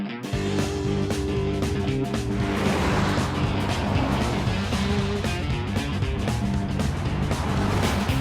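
A 2011 Volvo S60 sedan driving around a foggy skid pad, its engine holding a steady loud drone with tire and road noise throughout, no voices.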